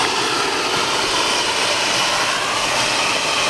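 A leaf blower blasts debris out of a roof gutter with a constant, loud, broadband roar that holds steady throughout, with no talking.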